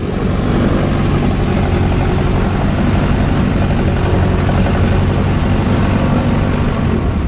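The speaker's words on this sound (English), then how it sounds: "I'm going to hold short right here and run up the engine, make sure the engine's running good" A yellow biplane's engine runs up while holding short before takeoff, a loud, steady, close propeller-engine drone that never lets up for the whole stretch.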